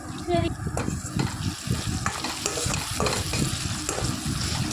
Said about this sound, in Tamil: இப்போ வெங்காயம் தக்காளி எல்லாம் நல்லா வதங்கி வந்துடுச்சு.